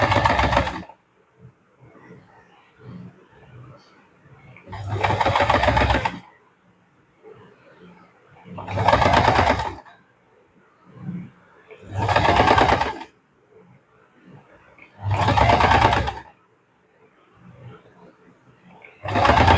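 A sewing machine fitted with a piping foot sews piping in five short, loud bursts spaced a few seconds apart, with quiet talking heard between the bursts.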